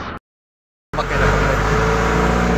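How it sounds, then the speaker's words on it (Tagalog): Jeepney engine on a Philippine street, a steady, loud rumble of motor and road noise that starts abruptly after a short silence and continues without pause. "Sakay muna kami ng jeep."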